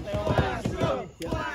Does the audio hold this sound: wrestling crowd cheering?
yes